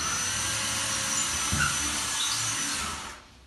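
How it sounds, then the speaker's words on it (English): A power drill whines steadily and loudly for about three seconds, grinding into drywall, then winds down and stops. "drill a hole in the wall"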